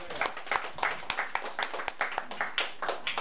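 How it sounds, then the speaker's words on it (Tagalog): A church congregation claps in loud, rhythmic bursts of distinct hand strikes during a Hallelujah praise moment, fairly close and continuous. "Isang malakas ang palakpak sa Diyos na buhay"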